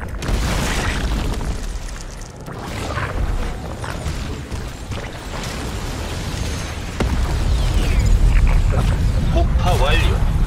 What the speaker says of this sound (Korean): 폭파 완료.